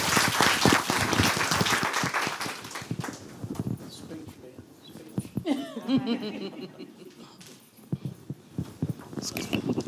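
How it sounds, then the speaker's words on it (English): Audience applause at a city council meeting, a dense patter of clapping filling the room for several seconds before thinning out, with voices talking over the tail end. "we need to definitely give them a round of applause"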